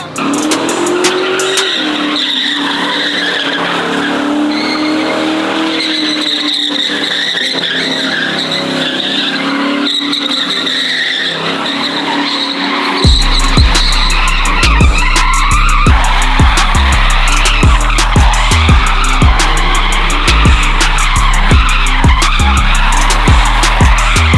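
A retired police interceptor car spins donuts: tires squeal and skid continuously over a droning engine, then the engine roars louder and harsher with sharp pulsing revs through the second half. No voices are heard.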